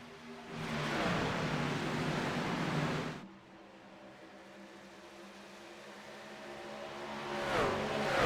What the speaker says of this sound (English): We'll listen to the cars for a little bit